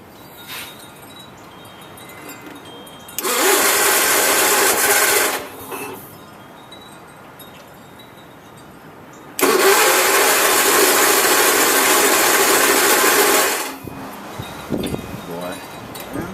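Onan 16 hp engine with carburetor trouble, choked by hand, roars loudly in two bursts of several seconds each, separated by quieter stretches of low background noise.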